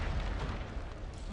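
A Bombarda spell explosion in the Hogwarts Legacy video game, a deep booming blast with rumbling low-end decay, loud and close, over a speaking voice.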